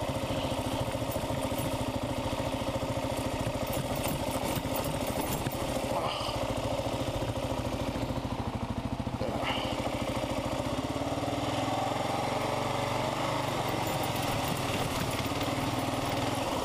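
A Kawasaki KLR650 motorcycle engine runs steadily off road in first gear, a continuous mid-pitched drone that stays close and fairly loud throughout with no voices over it, swelling slightly toward the end.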